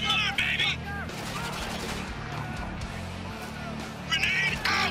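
Gunfire rattles through a firefight in Spec Ops: The Line, with rapid bursts and scattered shots mixing with other combat noise and voices throughout.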